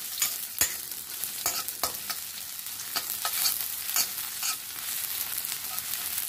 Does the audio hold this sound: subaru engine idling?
no